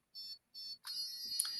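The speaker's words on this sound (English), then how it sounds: "when you hold down the black button, you'll hear a beeping sound" A Dolphin Neurostim device giving two short high electronic beeps, then a steady continuous tone while its button is held, faint and close with no talk.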